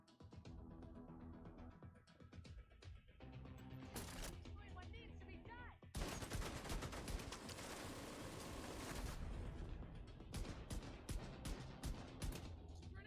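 Gunfire in The Division 2 video game, with bursts of sharp shots and rapid firing, louder and denser in the second half, under game sounds.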